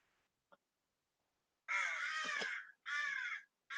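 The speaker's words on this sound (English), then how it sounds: "You can hear the crows in the background." Crows caw in harsh, loud, drawn-out calls, a long one followed by two shorter ones, after a faint click, with no talking.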